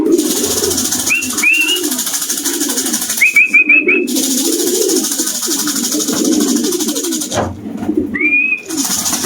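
Pigeons coo repeatedly at close range, soft low rolling calls layered over one another, with a few higher chirps from other birds breaking through.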